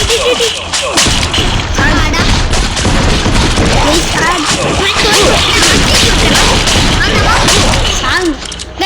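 Shotgun blasts and other gunfire from a co-op shooter video game sound as rapid, loud, continuous volleys with booms and thuds, while a player talks over the constant barrage.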